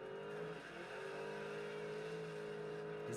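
A car engine in DIRT 5, a PS5 racing game in career mode, holds a steady, fairly faint droning hum that rises slightly at the end.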